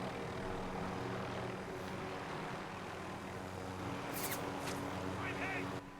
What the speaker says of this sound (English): Oh, there's another helicopter.